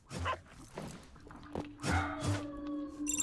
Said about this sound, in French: Oh le chien! Oh, il a de la vie le chien!